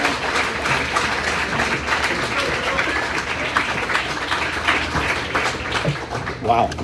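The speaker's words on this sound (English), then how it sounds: "keep that applause going for the great lefty, Phil Dumatrait" A crowd at a college athletic hall of fame ceremony applauds steadily for an inducted left-handed pitcher, a dense, even wash of clapping that holds for several seconds, with a few voices mixed in.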